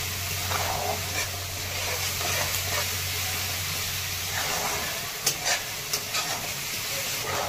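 Onion and green chili sauté in a pan for Maharashtrian methi kharda, a loud, close, continuous sizzle broken near the end by a few sharp spatula scrapes.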